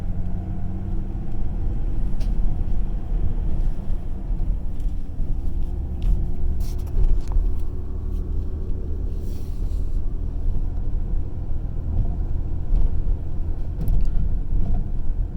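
A manual Ford Ranger engine drones low and steady inside the cab during a gear shift, a continuous rumble with faint wind noise and no distinct rev peaks standing out.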